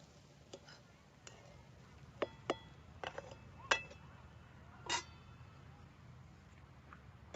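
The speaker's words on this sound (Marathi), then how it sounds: "झाकण ठेवून घेते." In a home kitchen, a lid goes onto a cooking pot of vatli dal with a few light metallic clinks and taps, quiet and close against a soft background hiss.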